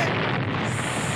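A TV smashed apart in a video game, heard as a dense, continuous burst of loud crashing noise with no separate hits, sustained evenly for about a second.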